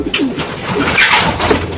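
Racing pigeons coo close by in a short burst of soft, throaty calls as breeder birds are let out to fly, with no one speaking.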